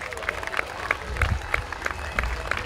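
Outdoor summer concert crowd applauding a steel band, scattered claps and cheers from a moderately distant audience, with a rhythmic thumping pulse and some voices underneath.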